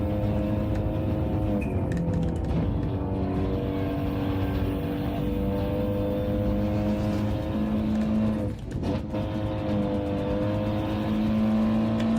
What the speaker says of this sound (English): listening to the tyre sounds, you can instantly know when I've done something shithouse by listening to the tyre